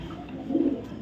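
A single short coo comes from a light-coloured female racing pigeon from a club loft, close and brief against a quiet background.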